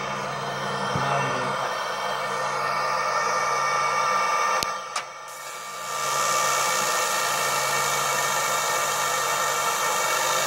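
A Z Tech engraving machine cuts material at a slow speed, giving a steady, close whirring hum that briefly drops out midway before resuming with a slightly brighter tone.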